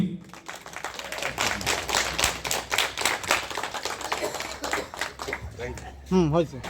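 Audience at an award ceremony during an urs festival clapping to welcome an honoree, a rhythmic, fairly loud stretch of applause, with a voice entering near the end.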